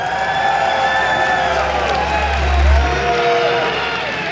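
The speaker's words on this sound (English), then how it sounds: "Let's hear you guys cheer for him one more time." Loud crowd noise at an esports quarterfinal, with cheering and scattered whoops swelling toward the middle, a dense, sustained roar from a large audience.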